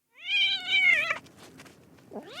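A cat gives a single clear, drawn-out meow, close and loud, in a narrated children's story recording, followed by quiet and the start of another cat sound.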